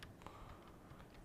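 Faint, quiet computer keyboard typing: a few soft, scattered key clicks over a low room hiss, with no voice.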